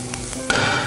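Eggplant and mushrooms frying in oil in a pan, a steady close sizzle with a clatter of stirring partway through that makes it louder, no talking.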